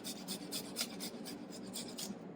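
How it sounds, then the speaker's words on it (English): Garlic cloves rubbed across a hand grater in steady, even rasping strokes, close and fairly quiet, with no voices. "I'm going to still use my grater for my garlic."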